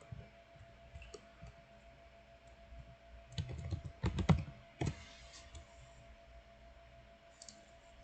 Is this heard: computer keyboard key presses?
yes